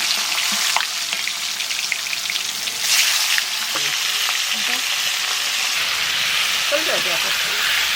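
Stingray fish coated with salt and turmeric fries in a pan with a loud, continuous hissing sizzle that flares briefly partway through, joined by occasional utensil taps and scrapes.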